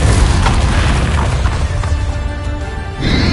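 A Depulso spell blast in the Hogwarts Legacy video game, a loud booming burst that fills the whole span with a sustained roar and rumble, followed by a fresh surge near the end.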